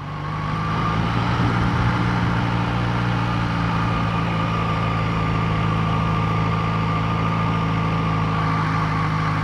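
A Yamaha XJ6 motorcycle engine idles with a steady, even hum that stays close and constant throughout, with no talk.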